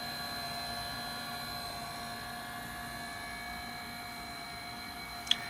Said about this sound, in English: And now the record is drying. No longer and no louder than when it was cleaning.